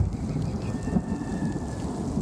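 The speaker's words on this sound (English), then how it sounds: "Now it's really starting to rain." Heavy rain pours down during a Kansas summer thunderstorm, a dense steady hiss with low thunder rumbling underneath throughout.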